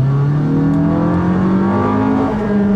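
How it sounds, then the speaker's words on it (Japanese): Honda Vezel Modulo X hybrid revving in sport mode, a loud steady high-pitched engine whine heard from inside the cabin, its pitch climbing gradually over a few seconds with no talk. "すごいエンジンの甲高い音が聞こえてきますね。"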